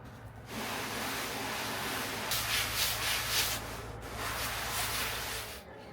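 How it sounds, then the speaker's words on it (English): Sandpaper rubbing over small parts for a homemade microwave kiln, a steady close, dry scratchy hiss lasting several seconds, growing brighter and harsher partway through, with brief pauses. "A few seconds on sandpaper will make them nice and smooth."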